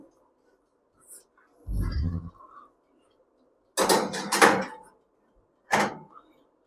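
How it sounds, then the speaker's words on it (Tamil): An oven door thuds shut with a low knock, then clicks and handling noises follow as the oven is switched on, with short quiet gaps between the sounds and no voices. "க்ளோஸ் பண்ணிவிட்டு அவனை ஆன் பண்ணுறோம்."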